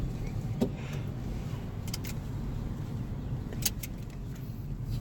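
A Mercedes CL250 on a test drive, heard from inside the cabin as a steady engine hum and road rumble, with a few faint clicks and rattles and no clear rise in pitch.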